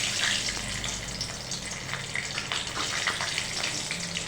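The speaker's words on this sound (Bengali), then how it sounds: "এবার আমরা ওই একই তেলে দিয়ে দিচ্ছি কিছুটা কালো জিরে ফোড়ন, আর দিচ্ছি" Nigella seeds and slit green chillies hit hot oil in a pan, producing a dense, close hissing sizzle with scattered pops that keeps going evenly throughout, with no voices.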